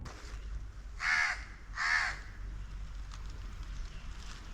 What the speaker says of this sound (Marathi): परिसरात सर्वत्र पक्ष्यांचे आवाज कानी पडत आहेत